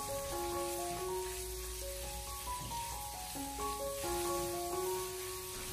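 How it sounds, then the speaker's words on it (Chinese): Lean pork stir-fries in a wok over low heat, giving a steady, even sizzle and hiss that runs throughout beneath a melodic background music track. "我们再把瘦肉放进锅中，继续的小火翻炒"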